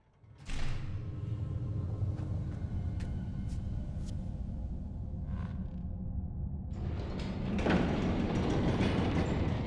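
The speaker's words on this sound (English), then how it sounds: "I'll see if I can get the train running somehow." A train in the fantasy game Enderal starts up with a low mechanical rumble, a few clanks and metallic pings, then swells into a louder, steady rolling noise toward the end.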